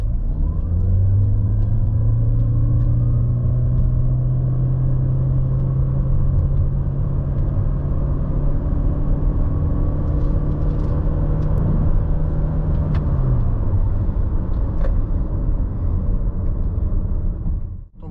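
A Toyota Corolla Cross in sports mode with traction control off accelerates from 0 to 100 km/h, its engine a loud steady interior drone that holds one pitch, then drops as the car shifts, alone without talk.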